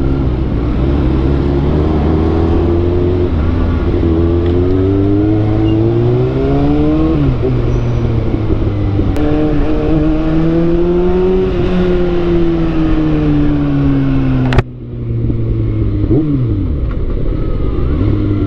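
Kawasaki ZX-6R motorcycle ridden on a road, engine droning steadily with rising and falling revs through gear changes, loud and close throughout with a brief dip near the end.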